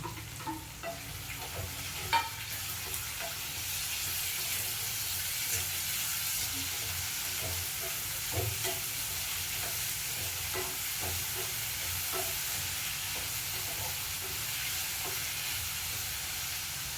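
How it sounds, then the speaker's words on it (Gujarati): Chopped onions and tomatoes sizzle steadily in a pan for a long stretch, with frequent light scrapes and taps from a spoon stirring them. "પિંક કલરની થાય ડુંગળી એટલે પછી ટામેટા નાખી"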